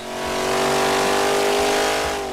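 A Ford V8 engine, a 302 or 351, revs hard during a dyno horsepower pull, a loud, close, sustained roar with rising harmonic tones across the whole short stretch.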